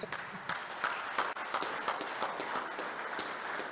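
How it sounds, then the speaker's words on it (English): Applause from an audience at a youth cricket tournament media launch, steady mid-level clapping with no pauses, running throughout. "A round of applause for Trevor Brown"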